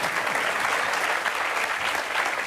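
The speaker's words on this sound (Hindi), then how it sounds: "ताली बजा दीजिए।" An audience at a talk on smartphone hacking claps in a continuous, fairly loud burst of applause that holds steady for the whole clip, with no voices over it.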